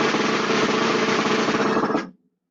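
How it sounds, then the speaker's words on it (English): A dense, continuous snare drum roll, fast and steady for about two seconds before stopping abruptly. "Other cool tricks you can do on the snare drum, like rolling."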